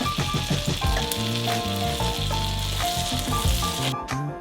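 Bread sizzles steadily as it fries in butter in a pan, a continuous close crackle layered under background music with no talking.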